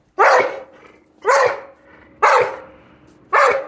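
Four loud, close barks from a large wolfdog, evenly spaced about a second apart, each a sharp rough bark with a brief tail.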